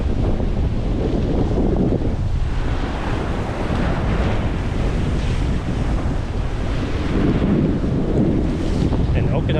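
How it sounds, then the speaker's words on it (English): Ocean waves wash onto the Kudaka island shore in a continuous loud surge of surf, mixed with wind rumble against the microphone. "Get to hear the nice sound of the waves."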